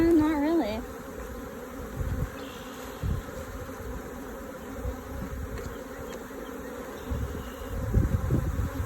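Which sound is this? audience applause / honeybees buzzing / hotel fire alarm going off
honeybees buzzing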